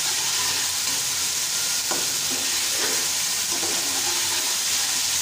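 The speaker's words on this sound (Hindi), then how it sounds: "अभी हम इसके अंदर डालेंगे ये जो कोफ्ते हैं ये डालेंगे और इनको अच्छी तरीके से मिक्स करेंगे आराम से" Potato koftas being stirred gently into a sizzling curry in a pan, a steady close frying hiss with soft spoon scrapes and stirs, no talking.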